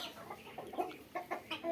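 Tiger breed chickens on a farm cluck in a series of short, close, irregular calls over a low background hum, with no talk.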